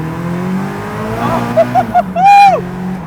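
A supercharged Caterham sports car engine hums low while driving, then climbs through a few short revving bursts and a sharp, loud rise near the end before easing off; no talking is heard.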